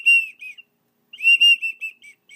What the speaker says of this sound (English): a widgeon whistle,